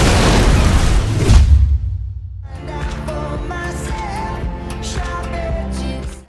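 A bomb detonates in a heist film, a loud deep boom with a rumbling roar that fades into a tense music score with low drones and scattered hits.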